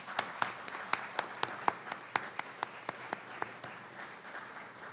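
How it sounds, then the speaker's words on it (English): Scattered, uneven hand claps from a small audience at a state technical education grant announcement in Ohio, with a dozen or so sharp individual claps standing out over a soft, steady patter. "Can we applaud these?"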